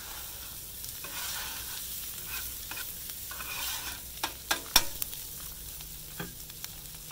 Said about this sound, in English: let's get this fried up here a little bit